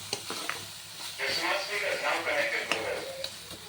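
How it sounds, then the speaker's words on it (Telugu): Egg curry with chili powder is stirred and sizzles in a pan, a steady frying hiss with occasional scraping clinks of the spoon throughout. "కారం వేసుకొని బాగా కలుపుకోవాలి కలిసినంత వరకు."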